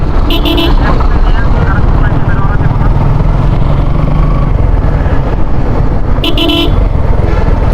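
Loud, dense road traffic in a jam on a motorbike trip out of Dhaka, with engines rumbling close by, short car horn toots near the start and end, and voices talking over the din.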